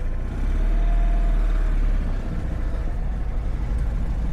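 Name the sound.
Citroën Ami 6 two-cylinder engine running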